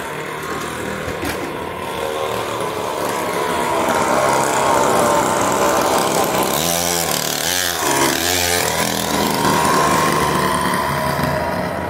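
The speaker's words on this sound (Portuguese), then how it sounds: "Quebrou a ponteira do escapamento. Por isso tá fazendo esse barulhão todo aí." A mini motorcycle with a broken exhaust tip roars loudly and continuously, with a harsh raspy buzz that swells as it revs, close by outdoors.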